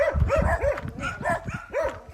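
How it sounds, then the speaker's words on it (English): Dogs at a house in the Philippines bark in a quick, repeated volley, several sharp yaps and whining barks close by with barely a pause between them. "Dogs at every house, usually 2 to 6 or 8 or 10."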